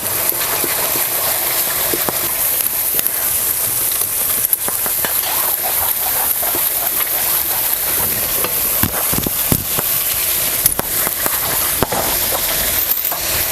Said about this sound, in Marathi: आता हे चांगलं असं भाजून घ्यायचं चांगलं असं परतून घ्यायचं